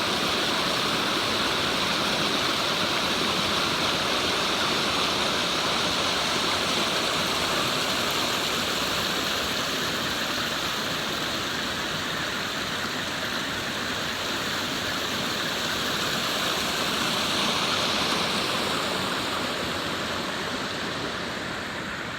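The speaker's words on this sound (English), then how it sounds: "there's a whole series of little waterfalls all through here" A series of small waterfalls and a stream rush over rocks in a steady, loud, broadband roar that stays constant and close throughout, with no voices.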